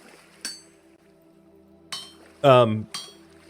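Iron being hammered by hand on an anvil in the Vintage Story video game: four bright metallic clinks spaced unevenly, one louder and more ringing than the rest, with quiet pauses between.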